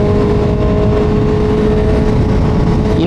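A motorcycle accelerates up to the speed limit, its engine drone and rushing wind loud and continuous throughout, with the engine tone climbing slightly toward the end.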